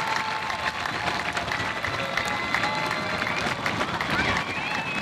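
A large commencement crowd for the class of 2021 applauds steadily, a dense, continuous wash of clapping with scattered cheers and crowd noise throughout.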